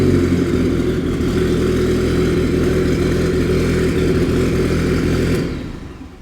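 Mk3 VW Golf 1.8 20v turbo engine running at a steady, loud idle with a low throbbing drone, holding even for about five seconds before cutting out and fading quickly.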